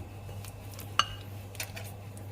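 A spoon scrapes softly while spooning cake batter into a mould, then clinks once against the container, with a steady low hum in the background.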